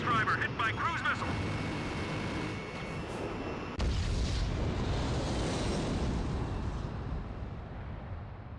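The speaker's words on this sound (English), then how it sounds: "Mass driver hit by cruise missile." In Ace Combat 5 The Unsung War, a cruise missile strikes a mass driver, bringing a deep, rumbling explosion that swells and lingers under radio chatter and jet noise.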